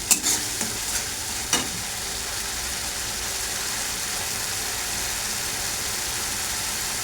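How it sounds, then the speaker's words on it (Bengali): Ground spices including Kashmiri chili powder, coriander and turmeric frying and being stirred in a hot pan, a steady broadband sizzle throughout with a few sharp clinks of a spoon at the start, close and with no talking. "মশলাটা এবার আমি ভালো করে কষিয়ে নেব।"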